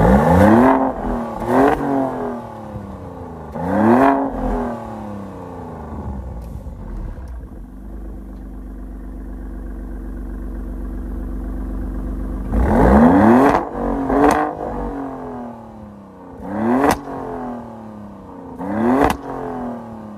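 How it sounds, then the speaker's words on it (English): A 2024 Maserati Grecale Trofeo's engine is revved repeatedly in its Corsa drive mode, loud and close, with sharp blips rising and falling, then a long steady high-rev hold before more quick stabs of the throttle. "I'm gonna give you revs in Corsa mode, which is his most hardcore driving mode"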